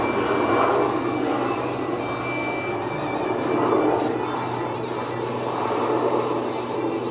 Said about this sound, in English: Helicopter's been going to and fro a lot.